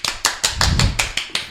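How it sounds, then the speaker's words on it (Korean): Studio hosts clapping to welcome a guest on a Korean radio show, eight or so crisp, evenly spaced claps at close range, with a brief low murmur in the middle. "박수 한번 쳐야 되는 박수"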